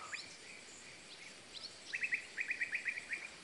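Small birds chirping outdoors in nature, faint and fairly distant, first scattered single calls, then a quick run of repeated bright chirps over quiet background hiss.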